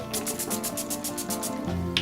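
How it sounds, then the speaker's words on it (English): A short hiss of NYX Matte Finish setting spray misted over a face in quick repeated pumps, soft and close with no talking. "Then I go in with my NYX Matte Finish Setting Spray. Just give my face a quick spray"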